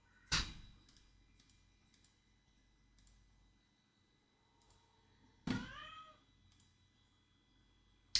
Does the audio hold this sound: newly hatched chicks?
no